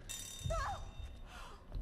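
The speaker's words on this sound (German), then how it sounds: "Was war das für ein Klingeln?" Brief ringing, bell-like chirps in the horror video game Daylight, a short warbling burst sitting over a low ambient rumble, with no one speaking.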